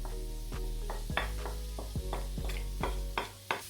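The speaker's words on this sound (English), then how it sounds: "we're kind of stir frying the shrimp first" Shrimp sizzles steadily in hot oil while a utensil scrapes and clinks against the pan in a loose, repeating rhythm.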